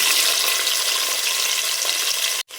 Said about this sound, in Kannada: ಇವಾಗ ಆನಿಯನ್ ಹಾಕ್ತಾಯಿದ್ದೀನಿ